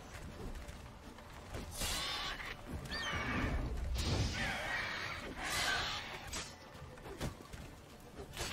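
A horse in The Witcher 3 video game whinnies and snorts in a few fairly quiet, breathy bursts, with some faint clip-clop and chirping ambience behind it.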